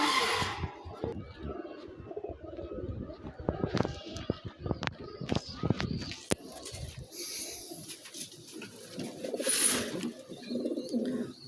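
A pair of Gangchil pigeons coo in low, throaty bursts at close range, mixed with rustling and handling noises, while a person talks intermittently.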